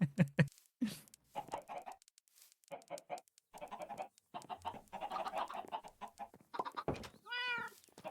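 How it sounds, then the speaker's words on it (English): Chickens clucking in a Minecraft-style video game, a steady run of short clucks and squawks packed close together, with a rapid warbling cry near the end. "I gotta get all these fucking chickens out of my house now."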